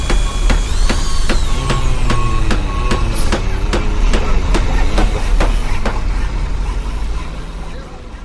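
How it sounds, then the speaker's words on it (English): Construction site din with loud, steady rhythmic hammering or pounding strikes, about two per second, over a dense mechanical rumble and whine, continuous and close throughout. "Some of the man-made environmental sounds are sounds from construction site,"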